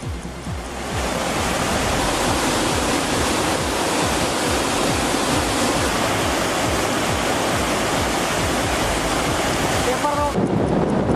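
Loud, continuous roar of rushing river water flowing into a reservoir at fifty thousand cusecs during heavy rain, steady and close, filling the whole clip without pause.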